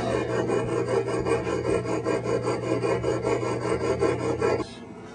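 A file sharpening the teeth of a checkering tool, rasping in a steady rapid back-and-forth rhythm, loud and close, with no voices, ending abruptly near the finish.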